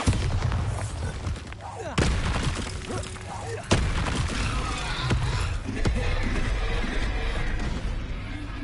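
Bombarda spell blasts in the Hogwarts Legacy video game, sharp booming impacts striking several times at irregular intervals over a dense layer of combat noise, with a voice talking through the fight.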